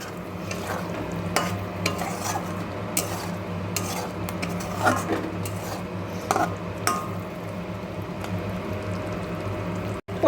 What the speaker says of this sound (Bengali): আমি আগে থেকে ভেজে রাখা পটলগুলোকে দিয়ে দিলাম দিয়ে ভালো করে নাড়াচাড়া করে আবার একটু কষিয়ে নেব